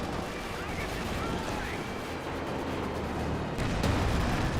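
In Company of Heroes 2, a Panzer IV tank gun fires amid dense battle noise, a sharp blast cutting through near the end. Other gunfire and explosions rumble continuously around it.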